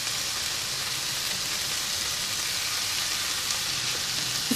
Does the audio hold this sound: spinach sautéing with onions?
yes